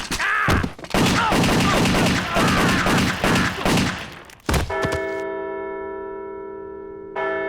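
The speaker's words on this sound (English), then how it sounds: "I'm gonna shoot you!" Gunfire blasts in an adult animated cartoon: a loud, dense fusillade of rapid shots for about four seconds, ending in a final bang, followed by a lingering sustained bell-like musical tone.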